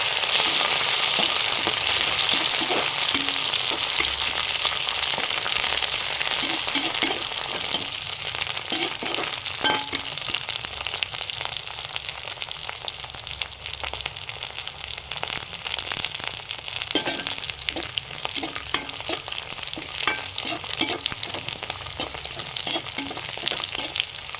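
Coriander and curry leaves sautéing in a hot pan, giving a steady, close frying sizzle with crackles and stirring scrapes throughout, no voices.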